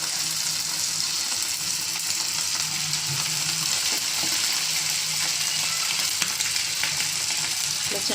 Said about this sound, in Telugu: నూనె ఇప్పుడు కాగింది కదా, దీంట్లో మనం కలుపుకున్న దాన్ని వేసుకుందాం